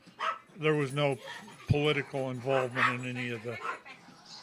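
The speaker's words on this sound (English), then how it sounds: "sorry about the dogs again." Dogs bark and yip in the background behind someone talking steadily close up, the barks brief and intermittent.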